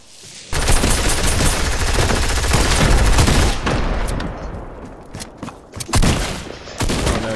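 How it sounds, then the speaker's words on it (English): Dense bursts of rapid gunfire with heavy booming blasts, read as grenade explosions, in the Fortnite video game; loud and continuous for about three seconds, then broken into shorter volleys and thuds. "Grenades everywhere."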